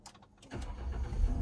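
A car engine starts as the ignition is turned and the accelerator is pressed slightly. A short cranking whir is heard first, then the engine catches into a louder, rising low rumble.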